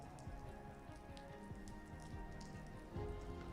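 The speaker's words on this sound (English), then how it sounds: "You can see how heavy the rain is" Heavy rain pours down at the Portimão race circuit, a dense, steady patter on surfaces with a low background hum, no voices, growing slightly louder toward the end.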